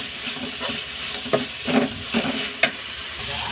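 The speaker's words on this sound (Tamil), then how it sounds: "இந்த அதில் சேர்த்துட்டு நல்லா கிளறி விட்டுப்போம்." Food sizzles steadily in a hot pan while a utensil stirs and scrapes through it, with a few sharper knocks against the pan.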